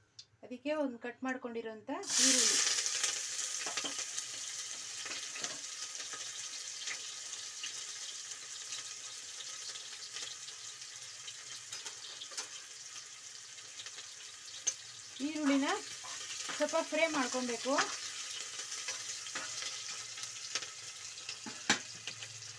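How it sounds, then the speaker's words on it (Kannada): Hot oil sizzles in a pan for tempering spices, a steady close hiss that runs throughout while a person speaks briefly at the start and again later. "ನೋಡಿ ಒಗ್ಗರಣೆಗೆ ಈ ಥರ ಎಣ್ಣೆ ಕಾಯಿಸ್ಕೊಂಡಿದ್ದೀವಿ"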